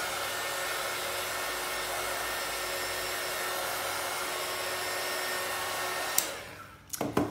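A hair dryer blowing on a mixed media Christmas card: a loud, steady whooshing drone held for about six seconds, then cut off with a brief clatter of handling.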